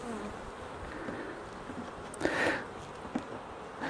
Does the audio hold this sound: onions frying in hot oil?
no